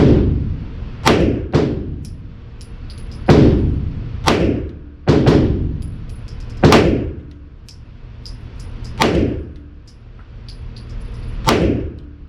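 Eight sharp, loud shots from a Smith and Wesson M&P 9 Shield Plus pistol fired one at a time at an uneven pace, each a hard bang with a short decay.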